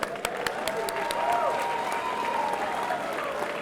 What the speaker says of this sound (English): Nice round of applause for these warriors.